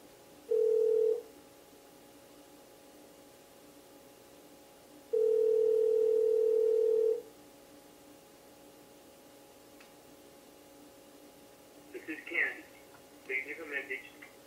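A FaceTime audio call rings out with long, steady electronic ringback tones separated by silence, followed by faint voices near the end.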